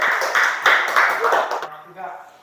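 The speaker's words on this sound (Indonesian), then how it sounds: "kita beri tepuk tangan." Elementary school pupils clap together for a group during a classroom lesson, a broad burst of applause lasting over a second and a half before fading, mixed with voices.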